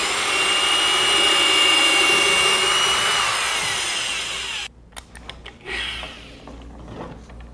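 A power drill bores steadily down into a residential wall cavity during a retrofit, whining loudly and continuously for several seconds before stopping abruptly, followed by a few faint clicks and brief scraping.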